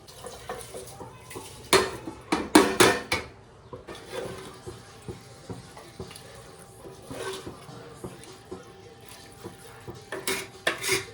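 Soaked basmati rice being added to a pot for mutton biryani, with clattering pot and utensil knocks, wet splashing and stirring in uneven bursts, close and fairly loud.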